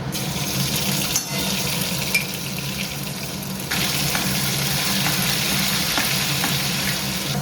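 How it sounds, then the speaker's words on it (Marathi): Cumin and mustard seeds sizzle and crackle steadily in hot oil for a biryani tempering, a loud, continuous frying hiss with occasional stirring and a brief dip before it swells again, with no talk over it. "थोडंसं तेल टाकून आपल्या फोडणीसाठी यूज करायचं आहे"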